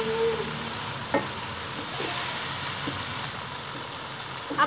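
Karela gosht, bitter gourd and meat, frying with spices in a pan: a steady close sizzle with a few knocks and scrapes from stirring, and nobody speaking.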